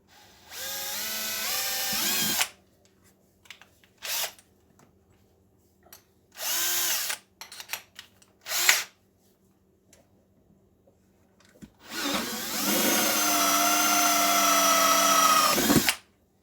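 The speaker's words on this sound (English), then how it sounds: "I drill the pilot hole." A power drill boring a pilot hole for a battery box on a Newport Vessels boat, heard in several bursts: a long whine, short blips, another mid-length run and a final sustained drilling stretch, close and fairly loud with quiet gaps between.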